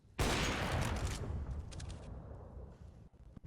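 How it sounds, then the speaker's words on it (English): Dense burst of automatic gunfire from a CS:GO match between Fiend and ONYX, a loud sustained volley for about a second, then scattered fainter shots and rattling echoes trailing off. "all he finds is the bullets of Bondik"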